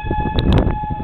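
Tornado warning siren sounding steadily near the DFW Airport area, a loud sustained wailing tone under gusty wind and rumbling background noise, with brief higher bursts over it.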